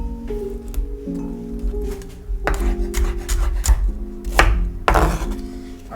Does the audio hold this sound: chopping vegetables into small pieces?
yes